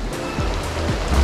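Pouring rain drums steadily on surfaces beside a creek near railroad tracks during a trout fishing tournament, a dense close hiss of drops with a low rumbling undertone, no speech.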